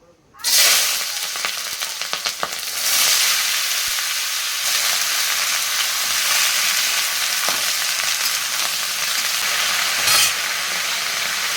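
Fish curry sizzles loudly in a hot pan, a sudden burst of bright frying hiss that stays steady and close, with a few stirring scrapes near the start.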